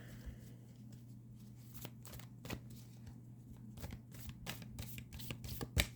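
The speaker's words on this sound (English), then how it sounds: "I'm going to shuffle back here because these are odd shaped cards" Tarot cards, odd-shaped, are shuffled close up in a series of soft, quick riffling bursts and taps, irregular in rhythm, over a low background hum.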